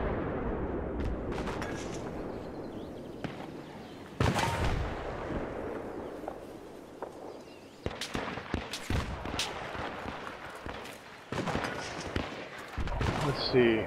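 Battlefield 3 combat gunfire, with scattered sharp shots and bursts echoing across a battlefield, some loud and near, others distant, while players talk between the shots.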